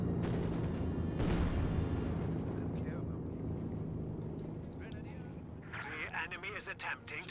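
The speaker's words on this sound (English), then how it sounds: "Got the strafe run call against the machine gun there, and doing some heavy damage." Aircraft strafe run hitting a machine gun crew in Company of Heroes 2, a loud dense burst of rapid gunfire and blasts with engine roar, fading into rumbling battle noise under a voice talking throughout.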